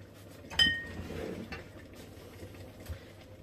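Sterilised glass jars for blackberry and apple jam go into an oven: one sharp glass clink, then faint rattling and handling noises against a low background hum.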